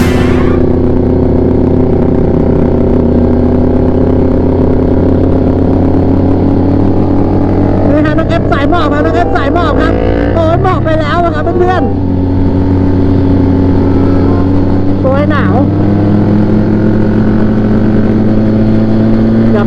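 A Benelli TRK 502X motorcycle fitted with a DaivoHp exhaust rides along, its engine a loud, steady close-up drone that holds throughout, with brief higher chirps partway through.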